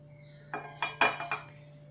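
Fish pieces for Kerala fish pollichathu set one by one into an oiled frying pan, giving a short series of four or five quiet metallic clinks with no talking.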